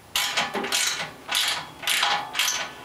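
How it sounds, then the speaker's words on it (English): A hand ratchet tightening the side bolts on a winch bumper during installation, five quick bursts of clicking, each a rapid run of pawl ticks, close and crisp with short pauses between. "Finishing tightening up the side bolts"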